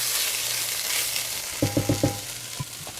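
A beef macaroni mixture with Worcestershire sauce is stirred in a pot, a soft sizzling bed with a quick run of four knocking spoon strokes and a couple of lighter taps after.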